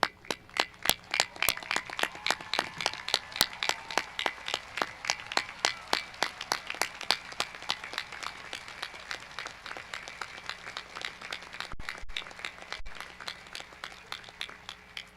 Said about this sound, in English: Stand and give them a round of applause.